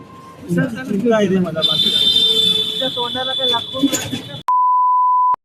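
A sharp, sustained censor beep cuts in abruptly after people talk, a steady pure tone lasting about a second.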